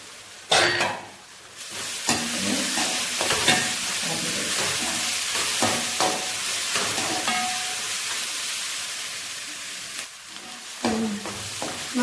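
Garlic and ginger fry in a pan for a Malabar dum biryani, with a soft continuous sizzle broken by stirring scrapes and clinks, close and moderate in level.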